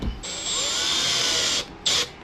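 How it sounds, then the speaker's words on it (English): A power drill drives self-drilling screws into a Pond Prowler 10 storage box, giving a steady high whine for over a second, then a brief pause and a second short burst, close and loud. "The screws just kind of find their way in, drill their own hole."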